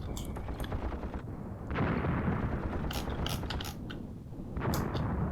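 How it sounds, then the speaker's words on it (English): Tank gunfire in a WWII Tunisia battle game, sharp cannon reports breaking over a continuous clanking, grinding mechanical rumble of armored vehicles. "What are you shooting at, tanks?"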